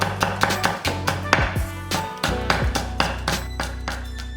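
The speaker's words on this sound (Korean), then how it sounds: "양배추 약간은 5cm 길이 정도로 채 썰고 양파 약간은 채 썰어서" A knife chops cabbage and onion into thin strips on a cutting board, giving a quick, even run of sharp close taps, loud and rhythmic, with a short pause partway through.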